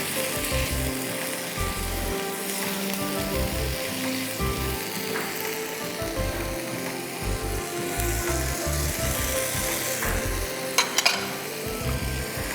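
Mixed vegetables frying in a pot for biryani, a steady close sizzle with stirring scrapes throughout and a couple of sharper knocks near the end, no talking.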